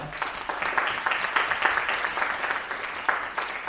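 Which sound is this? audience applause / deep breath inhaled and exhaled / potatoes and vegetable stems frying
audience applause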